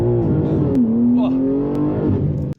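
BMW M3 sedan accelerating hard from 0 to 100, a loud rising engine note climbing steadily through a gear with a brief dip partway, close and prominent, cutting off abruptly at the end.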